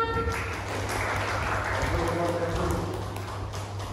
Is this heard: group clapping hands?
yes